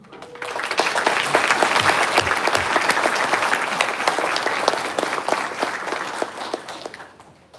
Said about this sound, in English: Let's give a very warm round of applause